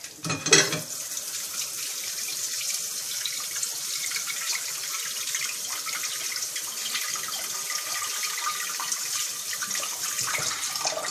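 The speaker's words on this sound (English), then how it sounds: "Wash my hands quick." Tap water runs steadily into a sink as hands are washed in a home kitchen during shrimp frying, a broad continuous splashing hiss after a brief louder gush at the start, with no talking.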